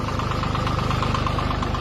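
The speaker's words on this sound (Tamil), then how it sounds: "வண்டி ஸ்டார்ட் ஆயிட்டு" Farm tractor engine running steadily while ploughing, a close, loud, continuous knocking diesel rumble with a regular pulsing beat throughout.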